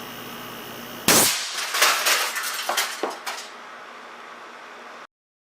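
An air cannon fires a .625 caliber glass marble at 425 psi into satellite receivers set a few inches apart, one behind the other: a sharp, loud blast followed by a quick series of metallic clanks and rattles, then a fading ring.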